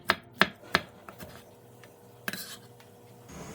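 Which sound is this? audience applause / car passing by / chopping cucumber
chopping cucumber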